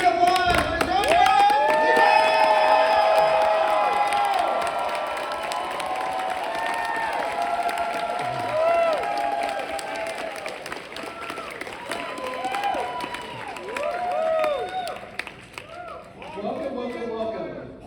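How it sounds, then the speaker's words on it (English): A large convention crowd applauds and cheers loudly for actor Giancarlo Esposito, sustained clapping and whoops filling the space while a voice speaks over it. "please give me a huge round of applause for Giancarlo"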